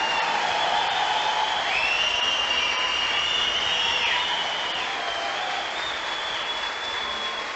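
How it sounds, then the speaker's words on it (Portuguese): A church congregation applauds hard and steadily at a Catholic service, a dense, loud wash of clapping that holds for the whole stretch with no talk over it. "Mas aplauda com mais força ainda."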